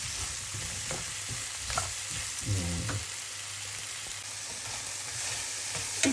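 Mushrooms sautéing in beef fat in a pan, a steady close sizzle throughout with a few stirring scrapes around the middle.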